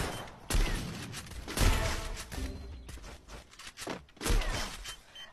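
Bombs explode in a video game with a series of heavy, booming bursts and rumbling blasts, loud and close, spread across the few seconds with rougher debris noise between them.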